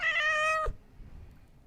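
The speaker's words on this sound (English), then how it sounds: "Thanks for meowing right into the microphone like you knew what you were doing." A single clear cat meow, loud and close to the microphone, ending abruptly and followed by quiet room noise.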